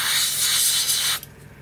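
A Gaahleri Ace airbrush sprays paint in a steady, close airy hiss that cuts off abruptly after about a second, leaving faint background noise.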